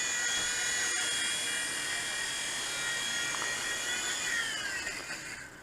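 A small WLtoys V911 RC helicopter's high-pitched rotor and motor whine holds steady in gusty wind, then its pitch drops and the sound fades as it settles down to land.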